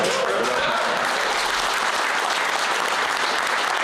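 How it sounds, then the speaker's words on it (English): An audience at a Canadian election campaign event in New Brunswick claps in a dense, even burst of applause that holds at a constant level for the whole stretch. "They couldn't restrain the clapping for that."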